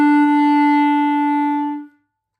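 Clarinet playing one steady sustained note with a flat chin embouchure, rich in overtones. It holds evenly for nearly two seconds before a quick release, heard solo with no talking.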